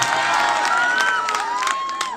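An audience at a mushaira poetry gathering in India claps and cheers in a loud, sustained crowd roar, with a voice rising and falling over the noise.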